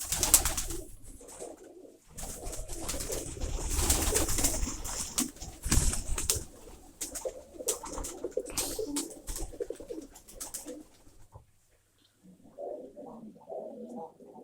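Pigeons coo repeatedly at close range in a pigeon loft, soft throaty rolling calls coming in bursts, with some rustling and clatter in between and a quiet pause near the end.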